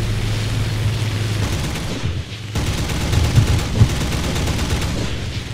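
Dense, continuous rapid-fire cannon bursts from a German Tier 2 plane in War Thunder, loud and booming, with a brief lull midway before firing resumes.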